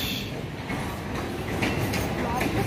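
A train rumbles and clatters continuously at Howrah railway station in the morning, a loud, steady mechanical roar with faint voices in the background.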